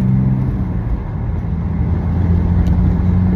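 BMW 330d diesel with its exhaust back box deleted, heard in normal driving as a steady low, throaty drone close by.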